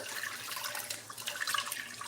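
Water is poured into a pot for quick minute grits on a home stove, a soft continuous splashing stream with light gurgles, fairly quiet and with no talking.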